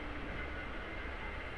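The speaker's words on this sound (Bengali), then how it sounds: "তো ট্রেন ছাড়ুক মানকর থেকে" A Hool Superfast Express train pulls out of Mankar station, a low continuous rumble of rolling wheels and carriages heard from on board, steady and moderately loud with no talk.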